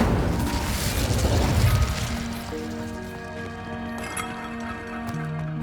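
An Incendio fire spell from Hogwarts Legacy bursts with a loud whooshing, crackling blast that fades into a lingering tonal shimmer and ambient game music.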